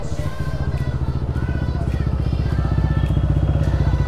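Many motorcycles on a group charity ride for cancer rumble steadily close by, a loud continuous engine drone with a pulsing low throb and no talk.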